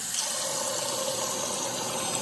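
Water pours steadily onto Orbeez water beads in a container, a continuous close rushing splash that holds at an even level throughout with no speech.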